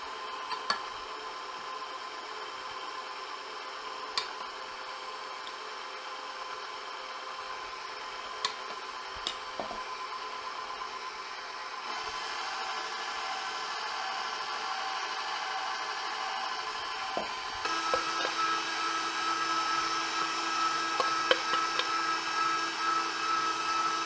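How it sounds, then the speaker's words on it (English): Runeberg pastry batter churned steadily by an electric mixer while flour and liquid go in by turns, a continuous whirring drone with occasional clicks that grows slightly louder toward the end. "I'm just gonna keep mixing it and add some flour"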